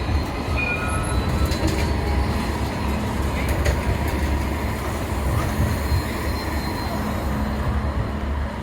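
A Sydney train on the Bankstown Line, drawing power from a third rail, rumbles steadily throughout with a dense, continuous roar of wheels on track, occasional faint squeals and rattles, heard from inside the carriage.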